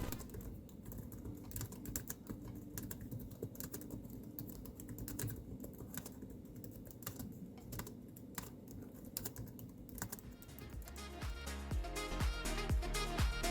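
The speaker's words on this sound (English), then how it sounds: "This is how the keyboard sounds." Rapid, uneven clicking of keys typed on the keyboard of an HP Compaq 6910p laptop, close and alone, with a brief burst of louder clatter near the end.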